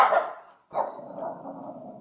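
A dog barks nearby indoors, two short rough barks with a brief pause between them, set in a sewing room where fabric borders are being pinned.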